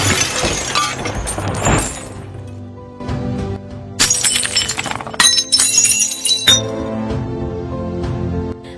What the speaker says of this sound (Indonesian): tiba-tiba gelas di tangan YN terjatuh